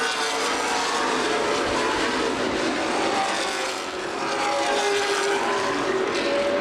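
CRA late model stock cars racing at Lucas Oil Raceway roar continuously at close range, the engine whine rising and shifting in pitch as the cars pass, with a brief dip before the noise swells again.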